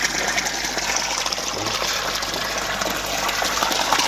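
Steady rushing, gushing water drains by gravity through a siphon from an aquaponics grow bed, flowing continuously at close range, a constant broadband stream with no pauses.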